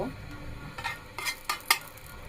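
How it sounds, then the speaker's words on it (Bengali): Black cumin seeds frying in mustard oil make a light sizzle beneath a series of close spoon-on-pan scrapes and clinks, getting sharper toward the end. "কালি জিরাটা একটু ভেজে নিব"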